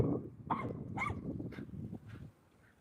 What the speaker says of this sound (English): he got his dog on his back in the backpack and the dog's barking as he rides the bike